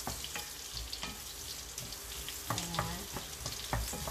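Salmon fries in butter with lemongrass, a close, steady crackling sizzle broken by scattered pops and the scrape of stirring, while a voice speaks briefly.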